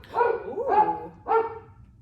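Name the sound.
dog barking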